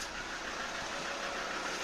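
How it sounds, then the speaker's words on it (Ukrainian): A car engine runs steadily just after being started, a continuous mid-pitched hum and rumble with no break and no voices. "ось бачимо, машина завелась"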